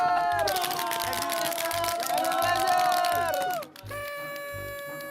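Crowd cheering at a Valorant esports match between DRX and PRX in the VCT Pacific playoffs, a sustained roar of many voices with rhythmic clapping beneath, dipping briefly before resuming under a musical tone.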